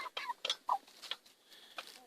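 A Sussex-coloured hen clucks in a quick series of short, close calls, several sharp bursts with brief pauses and no talk over them.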